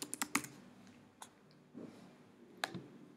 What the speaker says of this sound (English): Type in the subject.